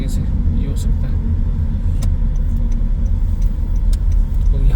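A car engine rumbles steadily nearby at a petrol station, a constant low drone with faint ticking and no clear rise of an approach.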